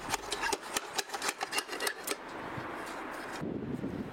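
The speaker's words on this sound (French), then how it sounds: "le couvreur taille, avec le biseau du marteau, les chefs de côté de l'ardoise" A roofer trims the side edges of a slate with the bevel of a hammer on a Parisian dome, giving a quick series of sharp taps and scraping rasps followed by a steady background hiss.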